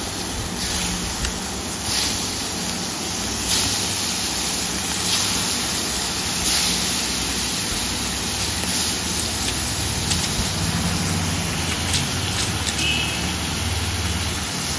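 Marinated prawns sizzle in hot mustard oil for Bengali daab chingri, a steady dense crackling hiss that holds loud and close throughout with no talk.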